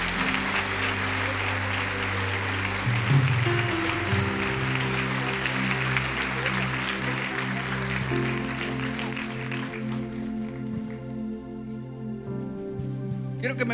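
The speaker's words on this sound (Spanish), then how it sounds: "Vamos a dar un fuerte aplauso, por favor," A church congregation applauding at a pastor's request, loud sustained clapping with music playing underneath, thinning out toward the end.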